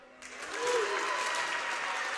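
A student cheering section applauds at a boys high school basketball game, a dense, steady wash of clapping and crowd noise that swells quickly and holds on.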